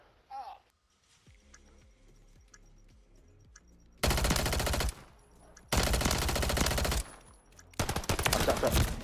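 Rapid bursts of automatic gunfire from a competitive online shooter video game, three loud sustained volleys separated by short gaps, with quieter game sounds and voices talking in between.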